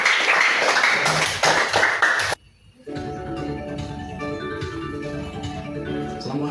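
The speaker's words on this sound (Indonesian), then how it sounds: "Ya, beri tepuk tangan dulu" An audience claps together at an Islamic education session, a burst of dense clapping that stops abruptly, followed by a quieter stretch with music or a voice underneath.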